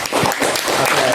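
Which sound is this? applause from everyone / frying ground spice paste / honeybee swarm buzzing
applause from everyone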